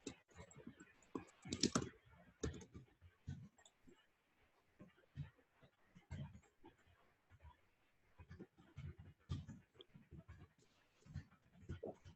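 Rapid, uneven clicking of typing on a computer keyboard, close and fairly quiet, with irregular bursts of keystrokes and short pauses between them.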